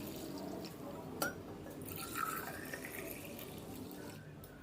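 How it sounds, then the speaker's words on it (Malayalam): A blended summer drink poured into a glass, heard as a close, continuous liquid stream with a sharp clink early on and a few brighter splashes as it fills. "അതിനുശേഷം നമുക്കിത് ഗ്ലാസ്സിലേക്ക് ഒഴിച്ചു കൊടുക്കാം"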